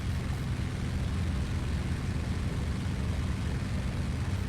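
Propeller plane in IL-2 Great Battles on its takeoff roll, a steady, dense engine drone that holds at a constant level throughout with no talk over it.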